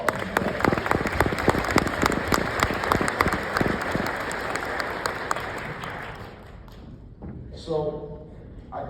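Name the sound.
audience applause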